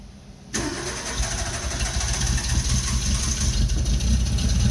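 An old car's engine cranks briefly with the gas pedal pressed, catches suddenly and settles into a loud, rough running idle close by, with no talking.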